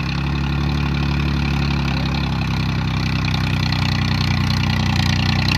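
A company-fitted tractor engine runs steadily in second gear, a close, continuous low mechanical drone with a slight pulse that holds even throughout, with no voices.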